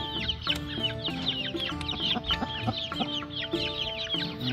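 A mother hen clucks steadily inside a box, joined by the high peeping of her chicks, a busy, continuous chorus close by with no talk.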